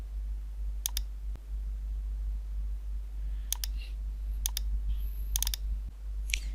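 Several sharp mouse clicks on a computer, exporting a print-ready PDF in Adobe Illustrator, come singly and in quick pairs and triplets, close and crisp over a steady low hum.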